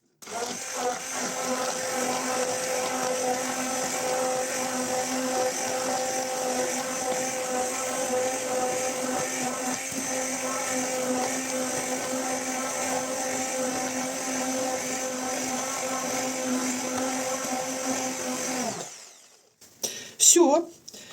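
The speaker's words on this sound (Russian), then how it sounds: "И погруженным блендером все это дело перебиваем." An immersion blender whirs steadily in a pot of gelatin marmalade mixture, a loud sustained motor drone for most of the time before it cuts off, followed by a few clattering knocks.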